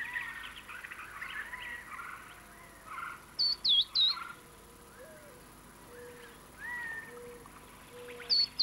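Gila woodpecker giving sharp, bright calls from a nest hole in a giant cactus, in short paired bursts near the middle and again at the end, over softer, scattered chirping of chicks and faint background bird song.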